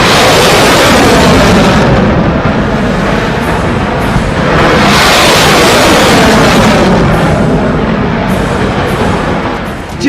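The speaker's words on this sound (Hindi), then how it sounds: "देखिए पुतिन के मिसाइल अटैक की एक छोटी सी क्लिप।" Missile strikes in the Russia-Ukraine war produce loud, sustained explosions: heavy booming blasts roll into one another with a thick rumbling roar, swelling again midway before fading slightly at the end.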